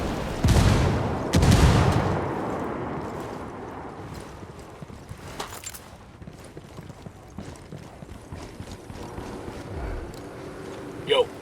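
A grenade explosion and gunfire in Ghost Recon Wildlands: two heavy booming blasts open, followed by scattered cracks of gunshots and rumbling that continue throughout.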